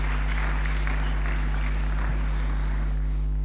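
A church congregation at a morning prayer service claps to acclaim God, a dense patter of hands for a few seconds over a steady low electrical hum.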